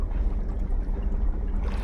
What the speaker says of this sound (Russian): Не, это он стоит, работает на холостых.